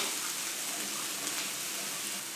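Tap water runs steadily as hands are washed at an outdoor barbecue, a continuous broadband hiss with no breaks and no talking.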